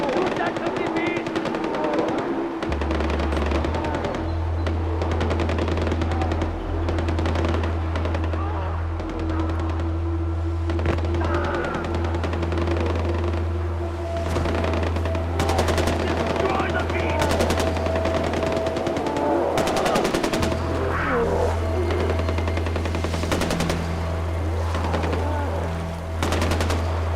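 Rapid machine-gun fire and scattered gunshots in the video game Far Cry 4, loud and sustained over a low vehicle drone, with shouting voices mixed in.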